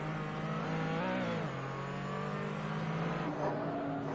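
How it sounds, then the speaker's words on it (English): A Porsche 935/K3 race car engine at Barber Motorsports Park howls steadily, its pitch dropping sharply at each gear change around one second in and again near three and a half seconds, a continuous close, loud drone throughout. "Gear changes don't sound too great for the engine"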